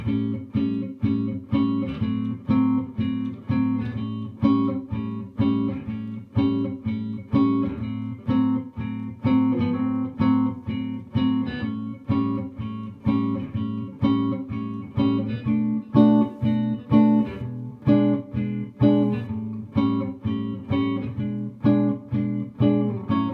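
Clean jazz guitar chords strummed in a steady, repeating rhythm, cycling through a 2-5-1 turnaround progression, played alone with no voices.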